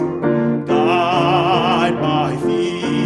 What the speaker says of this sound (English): I'll start with the piano